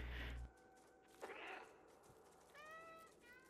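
Several cats meow in turn in a video game, high and drawn out, a few separate calls over a faint low hum with no talking.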